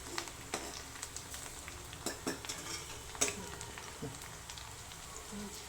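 Onion fries in very hot oil with cumin seeds in a home kitchen, a faint steady crackle broken by scattered sharp pops and clinks of stirring over several seconds.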